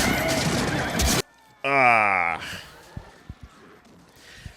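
A horse gives one loud, descending whinny between bursts of noise, followed by scattered thuds and scuffing, from a battle scene in the film Braveheart (1995).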